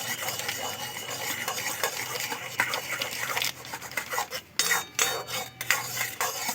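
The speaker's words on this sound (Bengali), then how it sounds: "এক হাতে দিতে থাকবো, এক হাতে নাড়াতে থাকবো, নাহলে কিন্তু দলা বেঁধে যাবে।" Powdered milk is stirred into boiling water, with a utensil scraping and clinking steadily against a pot, close and moderately loud, with a few sharper knocks toward the end.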